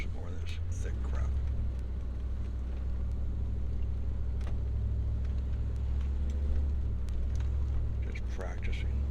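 An RV fitted with front and rear air lockers churns through thick, soft sand ruts, its engine giving a steady low rumble throughout with faint scattered noises on top.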